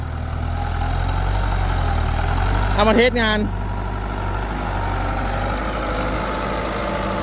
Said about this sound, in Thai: New Holland TD 90รถเครื่องยนต์ 4 สูบ89 แรงม้าเทอร์โบนะครับ